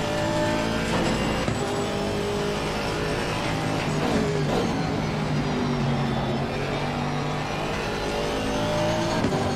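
Race car engines in Assetto Corsa Competizione, GT3 and GT4 cars at Oulton Park, roar steadily throughout, with layered revving and passing engine notes at close range, no talking.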